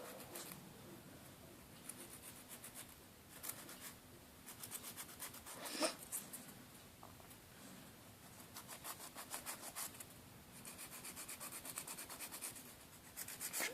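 Nail file rasping against a UV gel nail, quiet close back-and-forth strokes in rhythmic bursts with short pauses, no talking.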